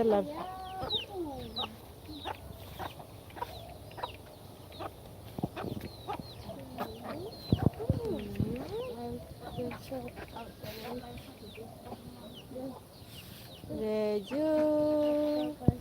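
Chickens cluck and call outdoors at a home with ducks and poultry, with frequent clucks and drawn-out cackles at moderate distance under occasional talk, and a louder burst of calls near the end.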